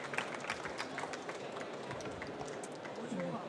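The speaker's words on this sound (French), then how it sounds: "on peut applaudir Emmanuel qui me rejoint" A conference audience applauds as a guest named Emmanuel comes up to join the host, a dense, steady patter of many hands that continues under voices.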